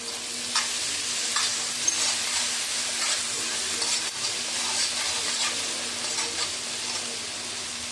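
Masala for a fish curry sautéing in a pan, a bright, steady sizzle overlaid with rhythmic scraping strokes of a stirring spoon, close and continuous over several seconds, with no one speaking.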